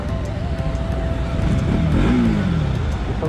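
A new NS motorcycle engine runs close by with a steady, rough drone that swells into a short rising rev near the end, under a wash of wind noise.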